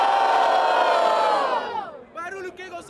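A battle rap crowd roars and whoops loudly in unison, the cheer sliding down and fading, then scattered shouts and voices continue at a lower level.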